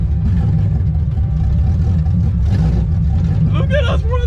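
Up close, a BMW fitted with a 6.0L V8 rumbles with a heavy low-end throb that swells in a couple of brief blips of throttle, while a person talks over it toward the end.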